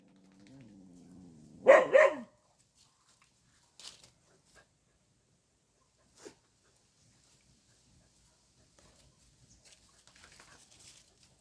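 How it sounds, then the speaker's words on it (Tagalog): A low whine followed by a short burst of barking, then a few faint scattered sounds and near silence. "Ang aso ko yung mga makukulit."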